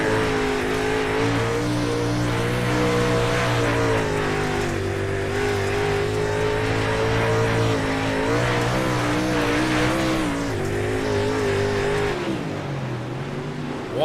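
Race cars circle Lanier National Speedway in a heat race, engines roaring loud and continuous from on board, pitch rising and falling with shifts and throttle changes for the whole stretch.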